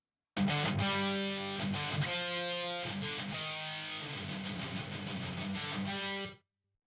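Distorted electric guitar chords and single notes played through a Cabinetron IR loader with its room reverb switched on, a few seconds of sustained riffing with a short roomy tail before the sound cuts off.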